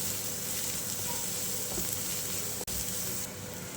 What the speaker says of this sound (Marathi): आता यामध्ये कांदा घालून घेऊया आणि हे आपल्याला फुल गॅसवरच करायचं आहे